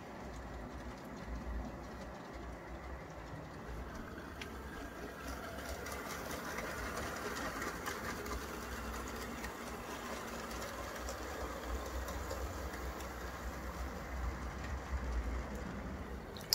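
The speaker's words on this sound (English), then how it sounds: "Here the train is coming out of the tunnel, coming up from under Bennington" An HO scale Boston & Maine model train runs steadily through a layout, a continuous low rumble and whir with faint clicking, moderately quiet and even throughout, no talking.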